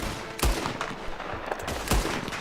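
Gunfire in Red Dead Redemption 2 during headshot kills: two sharp, loud shots about a second and a half apart, over a busy background of game noise.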